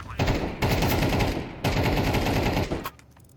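Rapid automatic gunfire in the video game Counter-Strike 2, loud and close, coming in two dense sustained bursts separated by a brief break, with a faint voice underneath.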